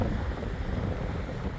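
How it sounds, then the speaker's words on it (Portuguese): Strong wind blows outdoors in Berlin, buffeting the microphone with a steady loud roar and low rumbling gusts for the whole moment, with no voices. "aqui venta demais"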